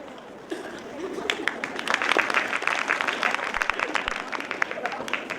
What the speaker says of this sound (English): Let us give a loud round of applause for the students.